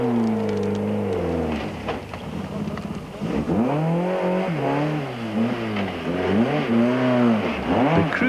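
A Toyota Conquest rally car, bent from an earlier crash, drives a 1995 Sasol Rally stage with its engine loud and close, revving up and down repeatedly as it accelerates and shifts, with no talking.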